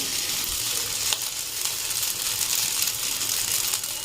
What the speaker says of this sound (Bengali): একটুখানি সস মেশাবো ওপর থেকে